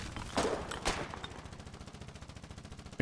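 Rapid bursts of gunfire from a frontline battle in the war game Foxhole, with a few sharper shots early, then a steady automatic rattle fading slightly, ending on one louder crack.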